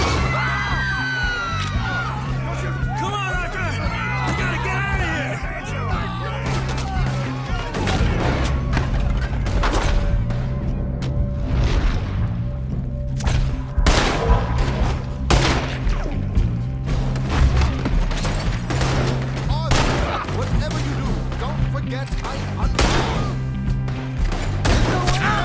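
Gunfire in the Red Dead Redemption 2 video game, repeated sharp shots and booms scattered over the scene amid crowd noise and a steady low musical score.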